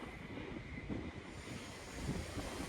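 A Class 390 electric train, City of Coventry, passes on its run from London Euston to Liverpool Lime Street, giving a steady rushing roar at moderate distance with some wind noise on the microphone.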